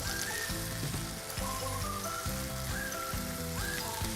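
Onions and freshly chopped tomatoes sizzle steadily in a hot pan for khichdi, a continuous close frying hiss with light crackle and a low tonal hum underneath, no voices.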